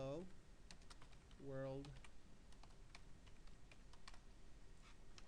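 Keys clatter in irregular bursts on a computer keyboard as HTML code is typed, close and crisp, with a voice speaking briefly over the start and again near the middle.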